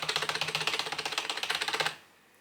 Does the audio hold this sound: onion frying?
no